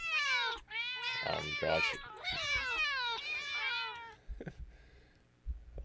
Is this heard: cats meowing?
yes